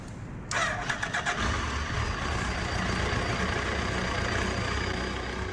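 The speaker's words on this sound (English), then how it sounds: "So when I authenticate, the bike powers up." An RFID-activated motorbike powers up with a sudden onset, followed by a steady, loud engine-like hum that runs continuously to the end, with no voices.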